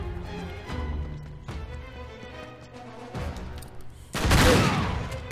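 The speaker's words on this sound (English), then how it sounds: "Oops, I accidentally fired both barrels." Sawed-off shotgun firing both barrels at once in Uncharted 3, a loud sudden blast near the end after a stretch of quieter game action and scattered distant shots.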